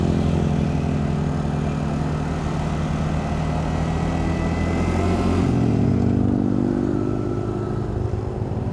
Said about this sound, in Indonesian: Oke, ayo coba kita tes motornya.